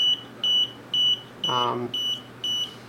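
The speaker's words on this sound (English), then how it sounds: "the alarm is supposed to start sounding. There we go." A fan controller alarm sounds a steady series of short electronic beeps repeating about every half second, with a brief low buzzy tone partway through, loud and close.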